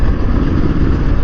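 A replica of Honda's four-cylinder 500 Hailwood race motorcycle runs close by, its engine giving a loud, dense, steady rumble throughout the short stretch with no pause.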